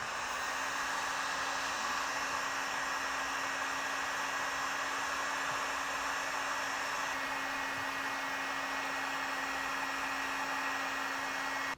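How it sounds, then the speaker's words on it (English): A heat gun runs steadily to shrink a heat-shrink crimp wire connector during trailer wiring work on a 2024 Jeep, an even blowing hiss with a constant motor hum for about twelve seconds. "just come back with the heat source and seal it up"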